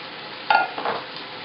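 String beans seasoned with salt and black pepper get stirred in a hot pan, a brief scrape-and-sizzle burst of two quick stirs over a faint background sizzle.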